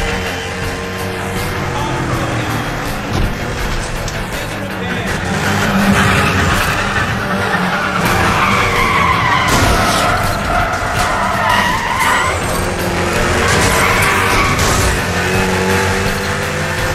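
Street race cars skidding in Need for Speed The Run, with loud sustained tire screeches over revving engines, near and continuous for the whole stretch, with brief voices in the background.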